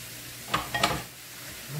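Onion, celery and carrots cooking in a pan, a steady soft sizzle with a few brief stirring scrapes and clicks near the middle, close and without talk.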